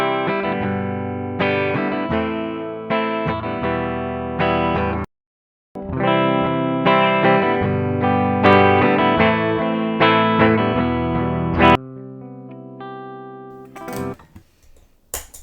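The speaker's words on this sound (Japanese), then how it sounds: "この EP ブースターで音が太くなってるのがわかると思います" Electric guitar chords and notes ring out through a Xotic EP Booster pedal with some distortion, loud and close, with a short pause partway through and then strumming that fades out into noise.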